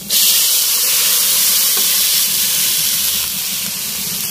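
Boiled chicken goes into a pot of sautéed aromatics for Filipino chicken tinola, setting off a loud, steady hissing sizzle that fades slightly toward the end, with no voices.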